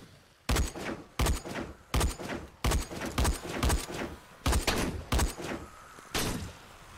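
Rifle shots in the video game Dead Frontier 2, about a dozen sharp loud cracks fired in an uneven rhythm, some in quick pairs.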